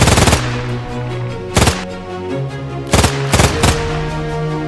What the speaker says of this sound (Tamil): இருங்கடா உங்களை எல்லாத்தையும் ஷூட் பண்றேன் எல்லாரும் என் துப்பாக்கி குண்டுகளுக்கு செத்து போங்க